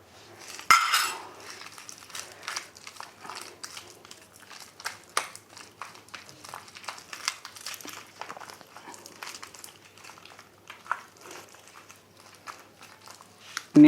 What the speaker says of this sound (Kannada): ನೀಟಾಗಿ ಮಸಾಲಾನ ಕಲಿಸ್ಕೋಬೇಕು ನಾವು